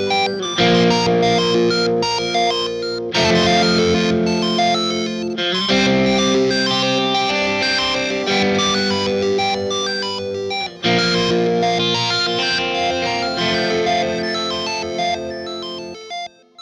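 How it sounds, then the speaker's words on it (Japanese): Electric guitar through a Meris Enzo synth pedal, layering a thick, buzzy synth voice over sustained chords in several long swelling phrases with brief breaks, loud and continuous with no voices. "エンツォはギターシンセってことでぶっといサウンドを上かぶせできるのが気に入ってます"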